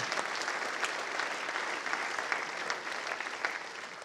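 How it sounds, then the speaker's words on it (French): Steady applause from an audience at an economic forum event in the Nord Vaudois region, dense clapping filling the room throughout without a break, with no voices on top. "On peut l'applaudir."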